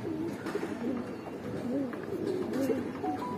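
Pigeons coo softly in a loft, including a Jira-throated pigeon, with low repeated cooing phrases layered over a steady background murmur throughout.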